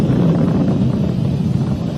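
Falcon 9 rocket engines during the Crew Dragon launch, past Mach 1: a dense, loud, low rumbling roar, steady and buffeting like wind, with no voices.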